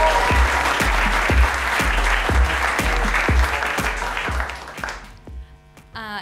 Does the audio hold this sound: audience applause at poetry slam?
yes